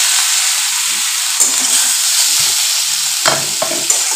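Potatoes hitting hot oil in a home kitchen pan set off a steady, bright sizzle and frying hiss, with a few louder crackles and stirring scrapes breaking through near the end, close and continuous with no talk.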